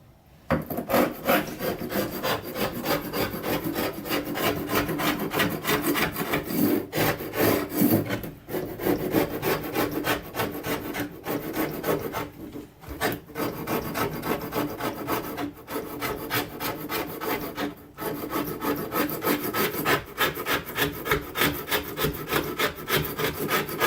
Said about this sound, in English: It's a scraper. It's got a razor blade in it. See that mastic coming off?